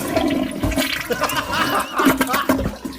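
A toilet flushes with a loud rushing, gurgling swirl of water, close up, filling the whole few seconds.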